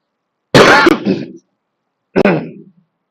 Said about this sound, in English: I have a cough issue.